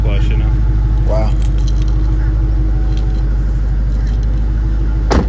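A BMW car key jangles in short, bright bursts inside a vehicle while a steady low engine hum runs underneath, and voices are heard nearby.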